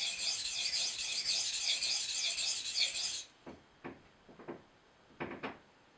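Freehand sharpening of an Esee 3 knife gives a steady close rasping scrape for about three seconds. A few softer separate strokes follow, with no talking.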